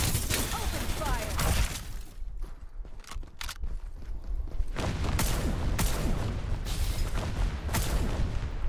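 Rapid bursts of gunfire from the sci-fi shooter Bugfall, dense volleys with booms and impacts, briefly dropping out before resuming loud and sustained, with a voice talking over parts of it.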